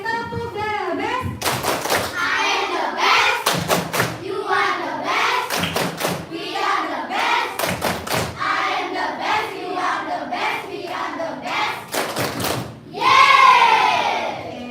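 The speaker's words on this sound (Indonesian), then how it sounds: "mari kita mengapresiasi diri kita dulu dengan tepuk the best, oke? Oke, tepuk the best." Primary school class performing a rhythmic group clapping chant, bursts of unison claps separated by children's shouted chanting and voices, ending with a loud cheer.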